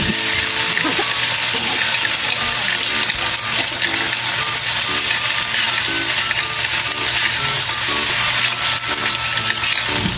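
Clams sautéing with onion and ginger in a pan, a steady broadband sizzle with scraping and rubbing strokes from stirring running continuously, close and fairly loud with no talk.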